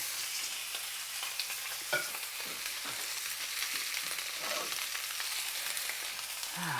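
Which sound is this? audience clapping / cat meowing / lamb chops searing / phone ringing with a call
lamb chops searing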